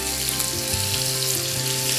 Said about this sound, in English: Here goes the steak, seasoned side down, and that's sizzling nicely.